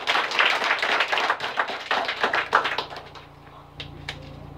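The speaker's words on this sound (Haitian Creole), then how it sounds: "Applaudissez le Seigneur encore une fois." A church congregation claps together in a close, lively burst of overlapping hand claps that tapers into a few scattered final claps.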